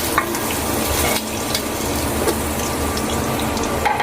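Fried prawns lifted from hot oil for a potol-chingri dish, with a steady close sizzle and bubbling of frying oil, light clinks and stirring noises over it, no talk.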